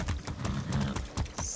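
A horse galloping in Far Cry 6, a quick, steady rhythm of hoof clops close by, fairly loud and running the whole moment with no talking.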